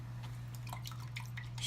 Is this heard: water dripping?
yes